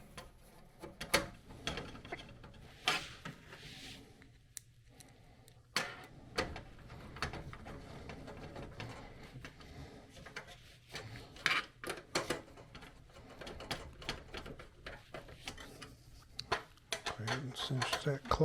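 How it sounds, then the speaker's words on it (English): Small screws being driven back into a PC case by hand, giving scattered clicks, ratcheting ticks and light metallic taps close up, irregular over a quiet room. "Put these screws back in."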